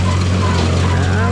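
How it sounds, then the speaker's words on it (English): Tractor engine running with its PTO engaged at a low 1600 RPM, a loud, steady, close-up drone with a strong low hum and broadband mechanical noise, unchanging throughout. "The PTO speed on this tractor is really low."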